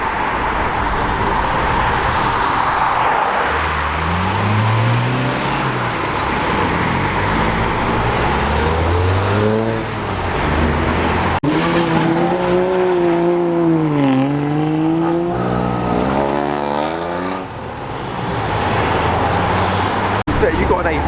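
Classic and modern cars accelerate away leaving Brooklands, engines revving with rising and falling pitch sweeps as vehicles pass, mixed with traffic noise while people talk nearby.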